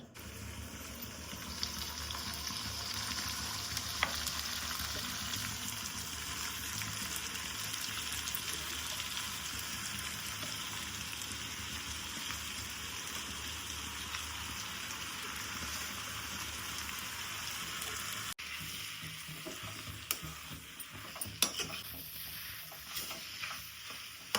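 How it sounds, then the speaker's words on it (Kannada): Soaked jowar roti being stirred into a hot tempering in a pan, giving a steady, broad sizzle that continues evenly and eases into softer crackles and scraping near the end. "ಒಗ್ಗರಣೆ ಆ ಒಗ್ಗರಣೆಗೆ ಹಾಕಿ ಕಲ್ಸೋಣ ಅಂತ ಬರ್ರಿ"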